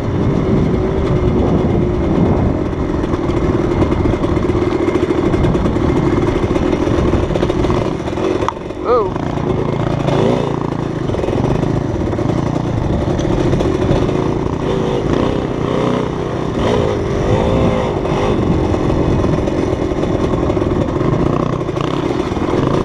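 A motorcycle rides and accelerates on a road trip through Arizona, its engine roaring loudly and continuously with rising and falling revs, heavy wind rush throughout and no pauses.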